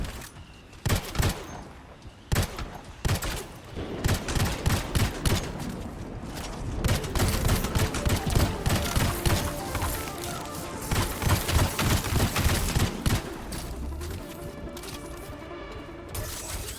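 Weapon fire in the video game Anthem, heavy repeated shots and rapid bursts with crashing impacts, loud and dense for most of the stretch before easing off near the end.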